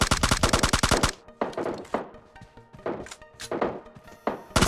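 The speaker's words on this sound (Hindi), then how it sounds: "मेरे को बैकग्राउंड से कोई साउंड आता है छत पर फायरिंग की" Gunfire in PUBG Lite from a rooftop: a rapid, loud burst of automatic fire opens, then scattered heavier shots and impacts follow over background game noise.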